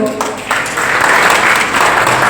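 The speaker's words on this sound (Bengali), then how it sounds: "আর তাদের জন্য একটা জোরে হাততালি হোক" A crowd at a film trailer launch event bursts into loud, sustained applause for the press and journalists, the clapping swelling after a quieter start and continuing dense to the end.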